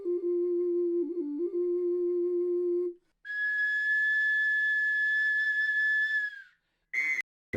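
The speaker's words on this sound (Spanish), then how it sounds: "Un huilacapistli que suena como paloma." A clay huilacapistli whistle sounds steady, hollow tones: a low wavering note, then a higher sustained pitch, ending with a brief fluttering chirp, like a dove's call.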